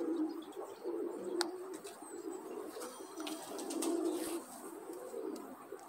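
Soft, low pigeon coos repeat in a gentle rolling rhythm, fairly quiet, with a few faint chirps and scuffs around them.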